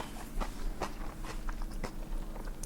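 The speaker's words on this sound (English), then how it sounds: "Crunchy from the cucumber." Several crisp crunching bites of a salmon cucumber roll, spaced irregularly over a low background hum.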